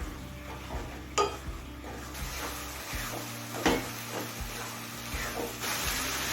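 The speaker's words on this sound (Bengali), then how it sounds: "এবার গ্যাসটা জেলে দিয়ে হাই ফ্লেমে গুড় আর নারকেলটা কিছুক্ষণ নাড়াচাড়া করতে হবে" Jaggery and grated coconut stirred in a pan over a high gas flame for dudh puli filling, with quiet scraping strokes, light clinks of utensil on metal and a faint sizzle underneath.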